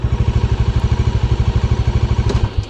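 A Kawasaki Bajaj Dominar 400 motorcycle engine idles on its side stand with a rapid, even thumping pulse, then sputters and cuts out at the very end.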